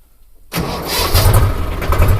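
After a brief quiet moment, a tractor engine starts with a sudden loud roar, then settles into a heavy, throbbing idle close by on a farm.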